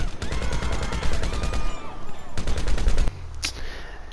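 Rapid automatic gunfire in GTA 5 Online, loud dense bursts of shots in quick succession, a short pause, another burst, then a sharp single report as the firing stops.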